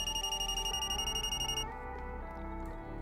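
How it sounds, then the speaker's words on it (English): Rapid, steady electronic beeping repeats in a quick regular pulse over a droning tonal background, then the high tone cuts out and a lower hum continues. "Beep, beep, beep, beep. That sound."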